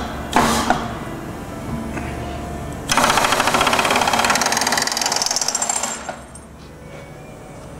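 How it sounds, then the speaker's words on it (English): Drawbar on a Bridgeport Series II heavy-duty vertical milling machine running: a sharp knock, then a loud steady whirring, rattling burst of about three seconds that cuts off, over a low machine hum. "Why don't we just try the drawbar while we're here?"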